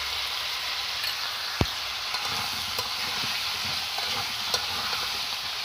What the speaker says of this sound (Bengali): ফুলকপি আলুগুলো আমি ভালো করে ভেজে নেব।